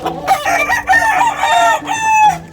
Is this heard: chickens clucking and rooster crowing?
yes